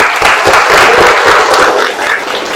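Loud applause from a crowd in a school classroom, dense clapping that swells and then tapers off toward the end.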